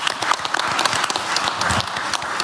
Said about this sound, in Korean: 지금 박수를 칠까요?